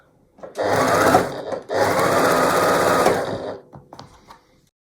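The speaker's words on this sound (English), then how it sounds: "now I have all my bars sewn with the background on either side." A sewing machine stitches quilt bars with background strips in two loud, steady bursts separated by a short pause, followed by faint handling clatter as the fabric is moved.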